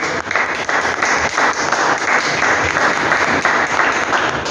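A church congregation applauds together, dense continuous clapping that stays loud and even throughout with no pauses.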